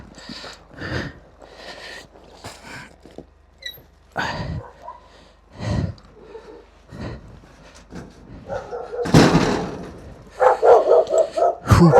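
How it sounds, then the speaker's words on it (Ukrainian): A dog barks outdoors near a small moped on a winter ride, giving several sharp, separate barks and yips spread out over time, with rustling and movement noise between them. "Собака."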